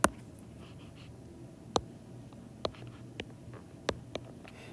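Handwriting math on paper or a board: faint, sparse scratches and sharp little taps from a pen, spaced irregularly through a quiet room.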